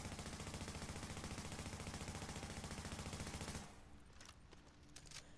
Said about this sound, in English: And this is just me shooting them in the stomach.